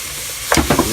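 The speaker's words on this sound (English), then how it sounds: "You keep it stirring like this." Beef stew for an Italian dish stirred in a pot: quiet steady sizzling, then a few quick scraping strokes of a spoon near the end, close by.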